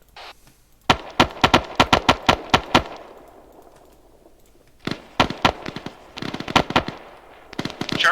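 Artillery shells explode in the Arma 3 video game, a rapid string of sharp, loud blasts in two clusters separated by a brief lull, crackling like a barrage close by.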